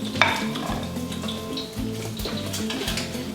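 An egg fries in a pan, a close, steady sizzle with clinks and scrapes of a utensil against the pan and low thumps beneath, no voices.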